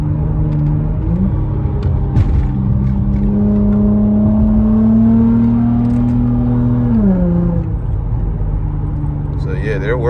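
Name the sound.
Acura TL car engine downshifting while driving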